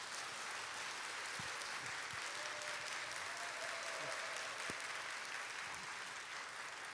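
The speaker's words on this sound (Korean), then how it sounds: "박수로 모시겠습니다." An audience in a church sanctuary applauds to welcome a guest speaker, a dense, continuous wash of clapping from many hands that stays even and full throughout.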